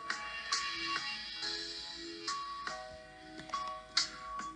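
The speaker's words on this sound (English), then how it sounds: "My phone is just making noise." A phone plays a ringtone of bright, repeating melodic chimes that come in several separate bursts at moderate volume, with no talk over them.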